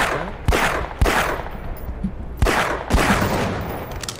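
Gunfire in the video game Black Mesa comes as four loud, close, sharp shots in two pairs, each ringing off briefly over a low background.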